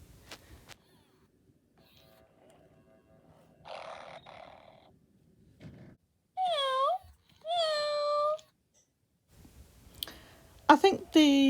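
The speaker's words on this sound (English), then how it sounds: "I think the Joy for All can meow a bit too much." A Joy for All Ageless Innovation robotic companion tabby cat toy gives several short electronic meows with sliding pitch, each about a second long and fairly loud, separated by quiet gaps and faint mechanical clicks.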